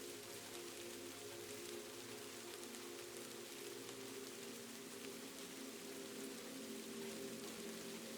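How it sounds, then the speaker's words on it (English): Steady rain falls through the night around an inn in Kyoto, Japan, a continuous even hiss of drops on surfaces with no lulls, fairly close and unbroken, with no voices over it. "The rain continues its ancient, patient work."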